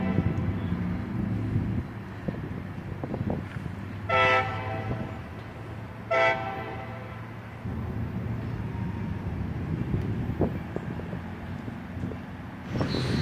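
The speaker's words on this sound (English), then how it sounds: "I heard the first horn of this train approaching" Freight train approaching through a town, its horn sounding two loud separate blasts over a steady low rumble of the moving train, with faint clanks between.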